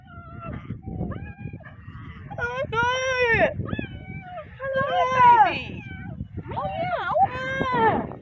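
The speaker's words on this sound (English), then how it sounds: "Yeah, these are cheetahs" Cheetahs at Tasmania Zoo give several high, chirping and mewing calls in separate bursts, close and fairly loud, over a background of rustling and handling noise.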